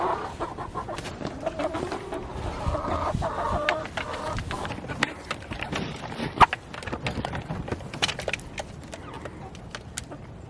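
A group of chickens clucks in scattered bursts, with soft rustling and pecking noises around them.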